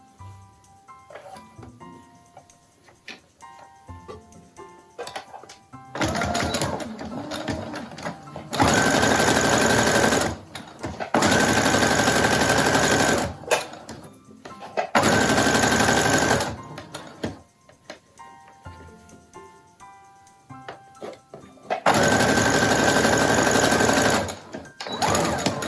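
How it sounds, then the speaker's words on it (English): A sewing machine runs loudly in several separate bursts while stitching a fabric face mask with a filter pocket. Between the runs come quieter handling sounds and short pauses. "now you are going to sew 1/2 inch in from the bottom"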